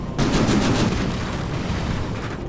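Cannons in the game From the Depths fire steadily at a hovercraft, a dense, continuous barrage of booming shots with a rough roar that holds loud and close for the whole stretch.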